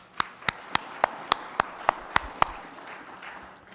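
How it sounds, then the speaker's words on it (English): Applause for a presenter at a Pacific Islands legislatures general assembly: nine crisp, evenly spaced claps that sound close, then fade into quiet room tone. "let's give our presenter a round of applause"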